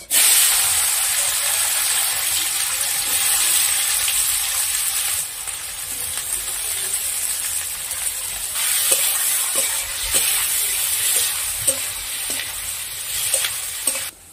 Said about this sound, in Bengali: পেঁয়াজগুলো একটু ভাজা ভাজা হয়ে গেছে